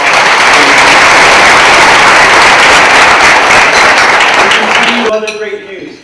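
An audience at a Palm Beach County Chamber of Commerce event bursts into dense, loud applause that holds steady and then tapers off as a voice begins speaking at the end.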